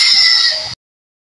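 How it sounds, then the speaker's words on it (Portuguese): A single harsh, buzzy bird call, loud and close, lasting under a second before cutting off abruptly. "tem outros pica-paus que têm cantos bem estranhos, como esse"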